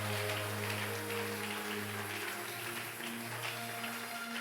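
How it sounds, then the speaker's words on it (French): A church congregation at a Sunday service claps together, a steady, dense patter of hands. Sustained keyboard or organ tones hold underneath the clapping. "Applaudissons l'Éternel pour la bénédiction."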